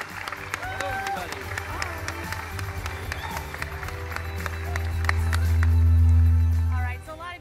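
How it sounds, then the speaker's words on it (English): An audience at an E3 panel claps and cheers in a swelling burst of applause that builds toward the end, mixed with crowd murmur and music. "Let's give them a round of applause."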